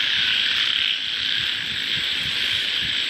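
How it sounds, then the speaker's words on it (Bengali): Bullfrogs croak at night in the rain beside canals and marshes, their pulsing calls low under a dense, steady chorus of insects, nearby and continuous. "কলা ব্যাঙের আওয়াজ।"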